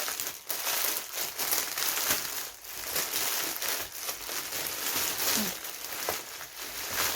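Paper and tape on a wrapped birthday present crinkle and crackle in steady close-up bursts as the wrapping is cut and handled, with occasional sharper snips and rustles throughout.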